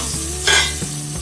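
Okra (bhindi) fries in oil in a pan with a steady sizzle, broken by a brief scrape of stirring, close and continuous.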